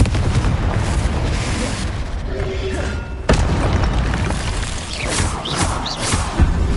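Confringo spell explosions in the video game Hogwarts Legacy, loud booming blasts over dense combat noise, one sharp impact midway, with a faint voice in the background.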